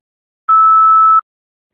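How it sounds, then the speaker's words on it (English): An automated telephone system sounds a single clean, loud mid-pitched beep lasting under a second, with silence before and after. "Please state your name at the beep."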